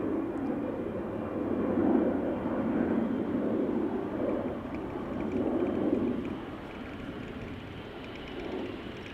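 A Chinese airline Boeing 777 approaching Amsterdam Schiphol gives a steady, distant low rumble of jet engines that swells and fades slightly, with no voices over it.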